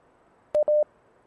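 A telephone call being dialed on a quiz show, two short clear touch-tone beeps in quick succession, the second longer, against near silence.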